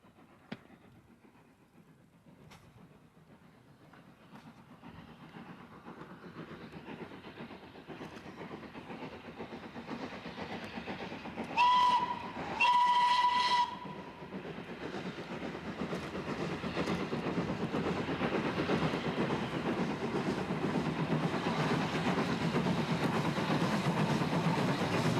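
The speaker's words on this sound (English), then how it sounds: "The first departure of the day leaves Woking and heads west along the former London and South Western main line" Steam locomotive train departing Woking westbound on the former London and South Western main line toward Basingstoke, with a brief whistle midway, then rising, steady rumble and rail clatter building loud and close.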